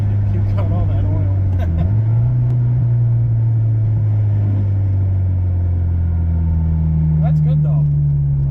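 A turbocharged Acura Integra engine runs steadily with a low, droning rumble whose pitch shifts slightly, while people talk over it at times.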